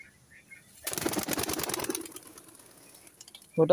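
Pigeons in a loft make a loud, rapid burst of rustling and fluttering for about a second. A quieter texture follows, then a sharp sound near the end.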